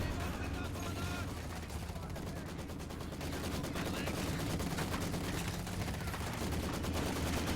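Rapid machine gun fire in the Company of Heroes 2 strategy game, dense sustained bursts over continuous battlefield din with other gunfire and rumbling in the background.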